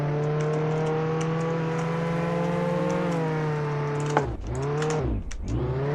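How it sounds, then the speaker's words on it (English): A McLaren car in the Roblox game Jailbreak accelerates with a steady, rising whir of engine tone, then dips and swoops in pitch as it shifts and revs, heard alone with no talk. "Before you say that the McLaren is slow, I didn't have enough time to speed up."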